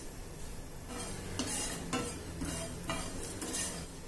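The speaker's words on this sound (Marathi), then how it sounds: "मंद आचेवर आपण हे मसाले भाजून घेणार आहे" Cumin and fennel seeds dry-roasting in a pan over low heat for chivda masala: a soft, steady crackle with several scraping strokes of a spoon at a regular pace.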